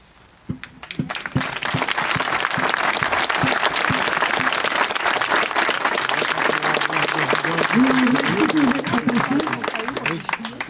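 Crowd applauding at an outdoor rally to defend a hospital, sustained loud clapping that starts with a few sharp claps and builds, with voices rising over it toward the end.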